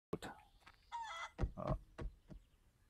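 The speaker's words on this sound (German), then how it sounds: "So, das wäre ein Huhn." A chicken in the Barn Finders video game gives a handful of short, faint clucking bursts spread across a few seconds, with light background noise between them.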